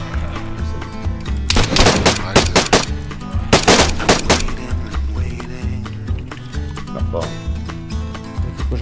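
Loud, close gunfire in the survival game DayZ: rapid clusters of sharp shots in two main bursts, with scattered single shots before and after, set against a low ambient rumble.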